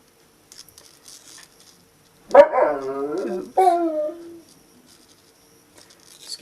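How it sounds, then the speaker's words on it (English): Pet dogs in another room of a home break into a couple of drawn-out, wavering howls with whimpery edges, fairly loud against an otherwise quiet room, followed by a brief spoken word. "Excuse my dogs in the background."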